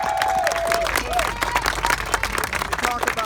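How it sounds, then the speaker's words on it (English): An audience at a patriotic volunteer gathering breaks into applause and cheering, a steady crowd clatter of clapping with scattered whoops, while a voice talks over it. "I cannot start this route without giving a big round of applause for Scott."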